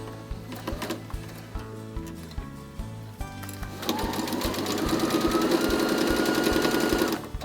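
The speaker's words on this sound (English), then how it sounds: "I'm going to go ahead and sew the outside of my bag." A sewing machine stitches the outside of a fabric tote bag in rapid mechanical bursts, pausing briefly before a longer, steadier run of stitching that grows louder toward the end.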